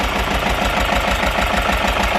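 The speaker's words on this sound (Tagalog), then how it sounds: "Yung makina natin naglingo-lingo na." A Toyota 1KD diesel engine running rough, a close, loud steady clatter with a rapid regular knocking pulse and shaking vibration, heard alone without talk.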